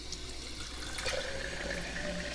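Tap water runs from a faucet to fill a container for drinking, a soft, steady splash and trickle at low volume, with the pitch rising a little as it fills and no talk.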